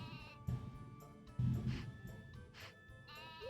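Sheep bleating in the Nintendo 64 farming game Harvest Moon 64, with two or three close, loud synthesized bleats spread over a few seconds and game background music running underneath.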